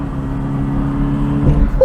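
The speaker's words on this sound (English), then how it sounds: "Oh, it does like to rev." An Alfa Romeo Alfasud Sprint Veloce engine hums steadily from inside the cabin while driving, a sustained mid-pitched drone that rises slightly toward the end.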